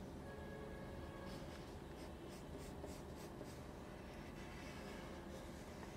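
Colored pencil scratching steadily across paper as a shape is drawn, a continuous soft gritty rasp with faint stroke pulses, close and quiet, no talking.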